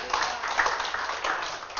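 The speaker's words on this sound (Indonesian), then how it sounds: "Tepuk tangan untuk Tuhan." Congregation in a church service applauds with steady, dense clapping throughout a short stretch, mixed with crowd voices.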